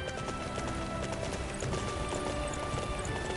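Horse hooves clip-clopping at a steady run, with an occasional whinny, in the Dynasty Warriors 9 video game, set against busy, dense game audio throughout.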